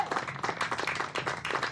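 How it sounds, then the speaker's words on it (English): A short burst of teammates applauding a batter at a women's cricket match, the Blaze against the Southern Vipers, comes as rapid overlapping claps with a slightly uneven, pulsing rhythm, moderately loud. "That round of applause from her teammates"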